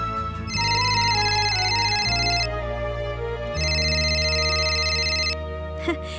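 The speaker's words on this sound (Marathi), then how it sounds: "तेवढ्यात तुझा फोन वाजला" A mobile phone ringtone plays in two sustained bursts of bright electronic tones over a low musical background, fairly loud and close.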